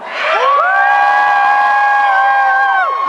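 A concert audience cheers loudly, with many voices whooping and shouting together and swelling into a sustained roar for about three seconds.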